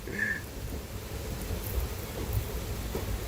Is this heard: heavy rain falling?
yes